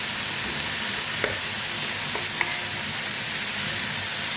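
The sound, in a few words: onions frying and sizzling in a pan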